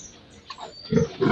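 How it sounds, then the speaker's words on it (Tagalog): A sow on a farm gives a few short, low grunts close by, rising in loudness toward the end of a brief moment. "ito naman yung isang inahing baboy ko"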